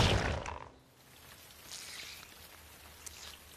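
Chocolate rain falls in an animated cartoon pony scene, a soft steady pattering hiss after a brief louder onset, faint and continuous.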